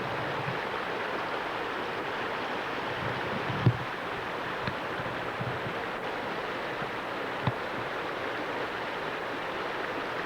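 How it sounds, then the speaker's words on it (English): A swollen creek runs high in spring just in front of a cabin, a steady broadband rush of flowing water that holds evenly throughout, with a couple of faint knocks partway through. "The creek is not frozen at all anymore, and it runs really high this time of the year."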